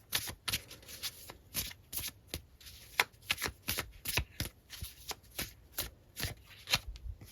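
Tarot cards being shuffled and drawn for a love reading, a quick run of crisp riffling slaps and flicks in an uneven rhythm, close up and fairly quiet, with no voice over it.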